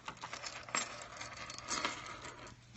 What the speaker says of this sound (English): just push this and it opens, and then you can put your keys through it